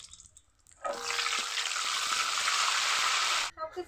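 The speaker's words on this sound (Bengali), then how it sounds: "তেল গরম হয়ে গেছে, দিয়ে দিব 5 ফোড়ন, তেজপাতা, শুকনো মরিচ।" Bay leaf, dried chili and five-spice tempering dropped into hot oil in a wok, bursting into a loud, steady sizzle after a quiet start and cutting off abruptly near the end.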